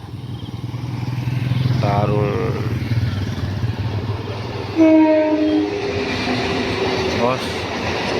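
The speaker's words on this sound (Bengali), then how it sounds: "আর ট্রেনও মোটামুটি ঢুকছে" A train pulls into the station at Naihati at night, its low rumble steady throughout as several horn blasts ring out nearby, and someone speaks briefly over the noise.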